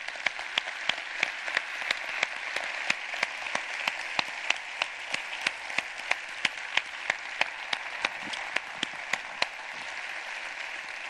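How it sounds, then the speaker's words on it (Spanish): An audience at a talk about meditation in schools gives a sustained round of applause, with sharp individual claps standing out from the steady crowd patter for over ten seconds. "os pido que perfumemos la sala con un aplauso muy brillante para ellos"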